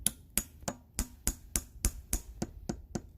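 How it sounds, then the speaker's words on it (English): A hammer taps a metal spile into a drilled hole in a maple tree, giving eleven sharp, evenly spaced knocks that start hollow and clicking and grow duller, close by with no talk. "we place our spile, and then when we tap it in with the hammer,"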